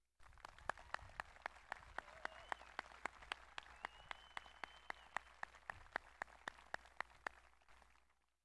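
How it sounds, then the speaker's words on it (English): Applause at a 2021 high school graduation ceremony, a faint, distant crowd with a few sharp individual claps landing in a regular beat near the front, sustained for about eight seconds before cutting off. "Let's give a huge round of applause to parents, family members, friends,"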